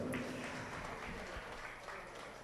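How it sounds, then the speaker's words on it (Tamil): Applause from an audience at a community get-together, honouring children who won awards in a high-achievers competition; a steady, fairly faint wash of clapping fills the clip without pause. "அதற்காகவும் ஒரு கரகோஷம் மீண்டும்"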